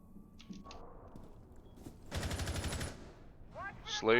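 Quick bursts of rapid gunfire crackle through a game soundscape, with a short rattling volley midway and sharper shots near the end.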